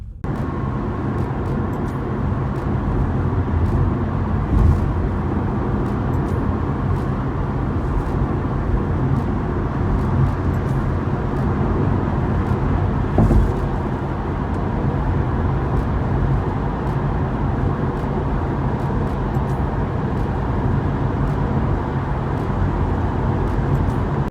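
Tesla on a highway under Autopilot, heard from inside as a steady loud road and tire roar with engine-free drone, constant throughout with no talking.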